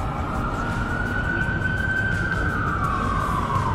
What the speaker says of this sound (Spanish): Si escuchan a las ambulancias